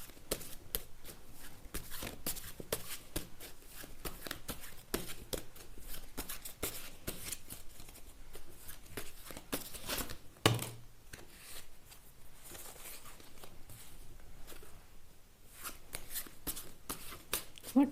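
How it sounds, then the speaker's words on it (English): Tarot cards are shuffled steadily for almost eighteen seconds in a dense, close, riffling patter, with a brief louder knock partway through and no talk. "I will start with shuffling some tarot cards for you."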